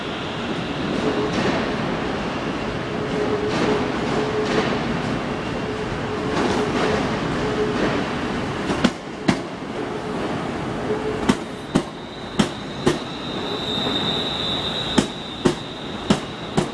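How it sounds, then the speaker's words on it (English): A London Midland train pulls out of Liverpool Lime Street station, a steady rumble of wheels and motors with a faint squeal, followed by a series of sharp clicks and clanks from the wheels crossing rail joints. "It's a London Midlands. It's parting from Lime Street Station in Liverpool."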